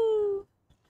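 A pet cat gives one short, clear, tonal meow that fades after about half a second, followed by near silence with a faint tap.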